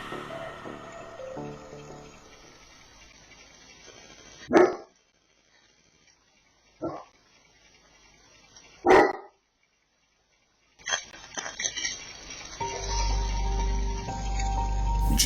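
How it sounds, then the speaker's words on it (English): A dog barks a few times, sharp single barks spaced a couple of seconds apart, close by in a quiet room with faint background hiss. "Just moments after her dog barked"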